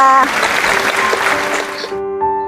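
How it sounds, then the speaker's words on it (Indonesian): An audience at a National Children's Day event applauds a young teacher named Linda: a dense burst of clapping under a steady musical tone, fading out after about two seconds while the tone carries on. "Tepuk tangan dong untuk Mbak Linda."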